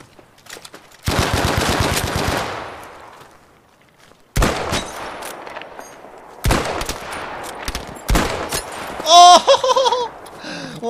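Bursts of automatic gunfire in Battlefield V Firestorm: a long loud burst, then several shorter sharp volleys with gaps between, ending in a cluster of rapid shots amid game sounds.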